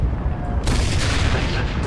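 A tank's 75 mm cannon firing in the World War II shooter Enlisted: a single sharp, heavy boom cutting through steady engine rumble and battle noise, with a lingering rolling tail.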